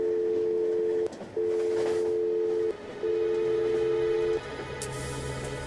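Telephone signal tones in the escape video game How 2 Escape sound as three long, steady low beeps separated by brief gaps, loud and clear over a faint background hum.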